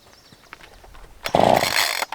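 A chainsaw being cold started with its pull cord: faint quiet handling at first, then a single loud burst as the engine briefly fires and sputters out within about a second.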